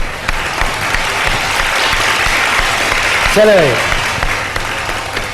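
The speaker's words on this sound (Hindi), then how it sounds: "दोनों के लिए बहुत सारी तालियां।" Studio audience applause at a live televised Ramadan iftar show, steady broadband clapping filling the whole stretch, with a host's voice briefly speaking over it.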